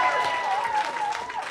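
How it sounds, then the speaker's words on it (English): Applause from a comedy-night crowd for a comedian at the Ding Dong Gong Show, steady dense clapping filling the short stretch, with a faint voice or tone running underneath. "Big round of applause to Akshay!"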